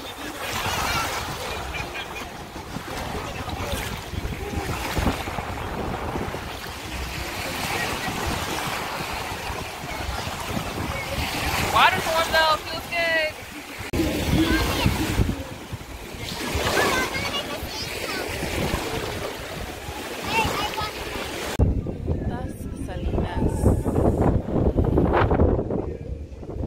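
Ocean waves on a beach along the Dominican Republic coast wash in a steady, loud broadband roar, mixed with gusts of wind buffeting the microphone throughout.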